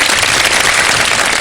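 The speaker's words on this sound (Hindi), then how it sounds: "हमारी तीनों टीमों के लिए बहुत सारी तालियां जनाब" Studio audience applauding the three teams on a Ramadan iftar quiz show, a dense burst of loud, close clapping that holds steady throughout, with no voices over it.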